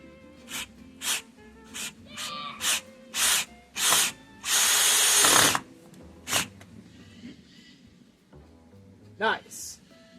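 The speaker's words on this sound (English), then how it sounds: "I think the drill's blunt." A power drill with a blunt bit whirs in repeated short bursts with a longer grinding run in the middle, close and loud, with brief pauses between.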